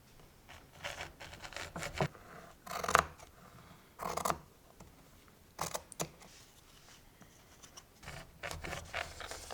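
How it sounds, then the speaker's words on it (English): Scissors cut through linen fabric along a 3-inch ruler for bias tape, giving a series of short crisp snips and rasps in uneven bursts, close and fairly quiet with no talk. "I'm using this 3-inch ruler to cut out fabric for the bias tape."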